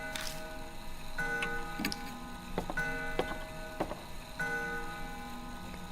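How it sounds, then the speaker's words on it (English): An antique grandfather clock ticks in a steady, evenly spaced rhythm, the dry clicks close and clear over a faint sustained musical hum in a quiet room. "It's an antique grandfather clock. The noise is definitely coming from here."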